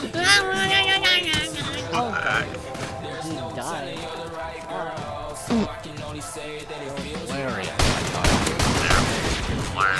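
Bursts of gunfire from the shooter game COD Modern Warfare Remastered, scattered shots and volleys mixed with game effects while players talk over them throughout.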